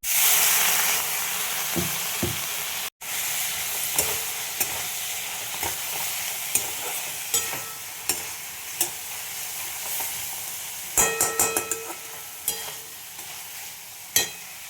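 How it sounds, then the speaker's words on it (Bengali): A thin fish curry broth in a pan, boiling and sizzling with a steady hiss and frequent small pops and crackles throughout, no talking. "দেখো ঝোলটা ভালো মতো ফুটে গেছে।"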